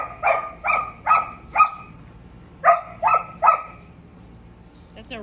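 Seven sharp, close dog barks come in two quick runs, four then three, separated by a brief pause.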